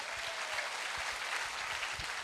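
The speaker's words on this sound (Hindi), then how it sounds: "जोरदार ताली हो जाए।" An audience at a Safe Shop leadership event applauds loudly on cue, a dense, steady wash of many hands clapping throughout.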